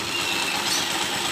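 Honda TMX155 motorcycle, nineteen years old, idling with a steady, even engine rumble and hiss, close up and continuous, with no talk.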